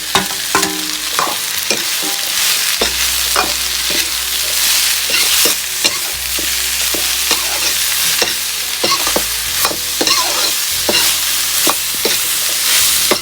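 Pumpkin being tempered in a hot pan in an Uttarakhand village kitchen gives a loud, continuous sizzle, punctuated by frequent sharp scrapes and clinks of a stirring spoon, close up and with no talking.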